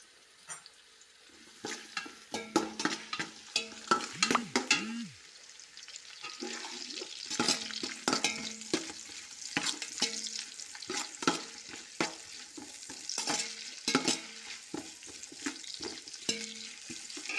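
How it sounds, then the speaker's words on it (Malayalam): Sliced onions sautéing in a pan, a low sizzle under repeated close scraping stirs and clinks of a spoon against the pan, no voices. "ഈ സവാള ഇട്ട് കൊടുക്കാം"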